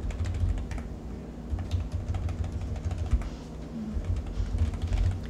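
Quick keyboard typing while entering a quantity on a camping reservation booking page, with soft irregular key clicks over a steady low background hum.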